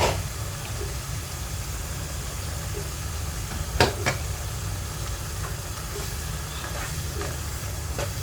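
Roasted ground masala being stirred into a simmering chicken curry, a steady low hiss and bubble with a few faint scraping clicks of the spoon against the pot.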